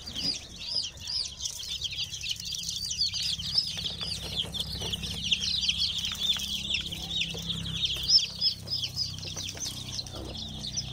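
Many day-old black chicken chicks cheep in a constant high-pitched chorus, with scattered flutters and a low background hum underneath.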